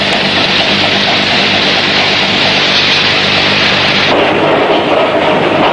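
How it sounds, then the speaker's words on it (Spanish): Coal dust bursting into flame explosively gives a loud, continuous broadband roar like rumbling thunder or artillery, sustained for several seconds and then shifting in tone near the end, with no talk. "el polvo de carbón arde explosivamente"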